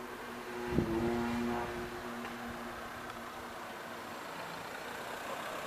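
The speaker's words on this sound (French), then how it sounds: "Il y a une voiture qui arrive." A vehicle's engine rumbles and builds steadily in the outdoor distance, a low continuous drone that swells and holds without any talking.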